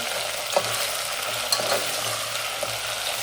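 Thin potato chips for a fasting-day snack fry in hot oil, a steady close sizzle throughout, broken by a few soft knocks as they are stirred, with no talking.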